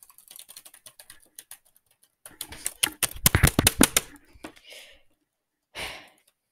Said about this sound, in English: Probably just broke a key on my keyboard.